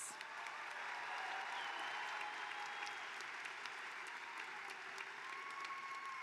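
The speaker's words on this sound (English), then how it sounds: "let's get another round of applause for these great graduates." A standing commencement audience applauds graduates at a spring university ceremony, sustained and fairly distant clapping filling a large hall, continuous and even throughout with no speech on top.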